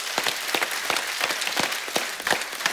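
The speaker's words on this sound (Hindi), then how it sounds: "हमारे जवानों के लिए एक बार जोरदार तालियां हो जाए।" Studio audience on a comedy talk show applauding, a steady wash of clapping with sharper individual claps standing out, moderately loud and without speech.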